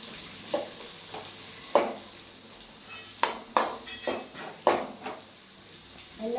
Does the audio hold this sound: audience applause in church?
no